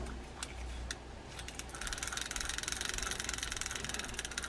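A 70-year-old Ocean City 922 Topsail fishing reel cranked in gear, giving a steady close-up mechanical whir and fine clicking that thickens into a continuous gritty rattle as the handle turns, with no talking.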